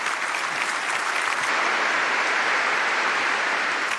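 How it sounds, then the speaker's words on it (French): Long ovation from the crowd at the end of Pope Benedict XVI's mass in Rome, a steady dense wash of clapping from many hands, loud and unbroken, with no voice over it. "Une longue ovation à la fin de la célébration."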